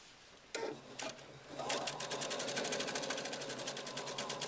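A Husqvarna Viking sewing machine stitches fabric with a cording foot: a couple of short starts, then a steady rapid mechanical chatter of needle strokes, close and moderately loud, with no talking.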